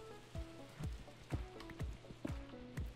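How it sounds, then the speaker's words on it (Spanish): Rain falls in Minecraft with soft, scattered droplet taps and gentle patter at a low level, with a few sharper plinks recurring at irregular intervals. "Y se hace de noche, no para de llover."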